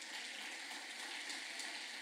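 Steady hiss of rain falling, a dense even wash of drops with no voices, continuous and moderately distant throughout.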